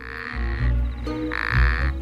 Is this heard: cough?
no